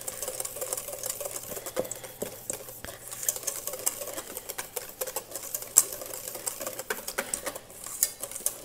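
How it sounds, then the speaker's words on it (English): Whisking ingredients together in a bowl, heard as quick, steady metallic clicking and scraping strokes that keep up an even rhythm throughout, close by, with no talking. "And again, I'm going to whisk this all together"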